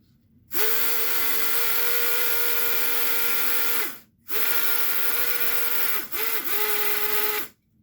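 A Tyco TCR slot car motor whines at high RPM in two long sustained runs, a steady buzzing drone that cuts off abruptly between bursts, close and fairly loud with no talk.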